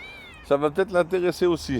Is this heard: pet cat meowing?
yes